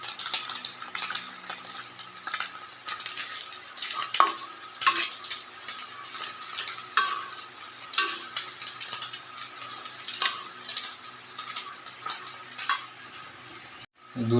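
Carrots, beans, fried egg and chow mein noodles are stir-fried in a pan. The spatula clatters and scrapes in an irregular rhythm over a soft sizzle, followed by a brief pause near the end.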